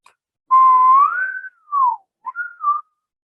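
A person whistles alone in a quiet room: one rising, sustained note, then a gliding lower note, then a short two-part flourish. The melody is clear and close, with silence around it.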